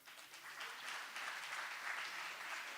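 Audience applause at a college chapel gathering: steady, dense clapping from many hands, fairly faint and distant, continuing throughout without breaks.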